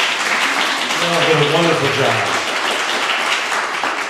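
Audience applause for runners-up at a poetry recitation competition, a steady wash of clapping throughout while a speaker talks over it.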